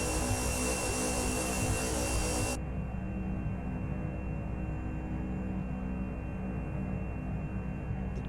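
A Cessna Caravan turboprop spools up for takeoff in a flight simulator, a steady, loud engine drone with a constant hum, its bright high hiss dropping away partway through while the deep roar carries on.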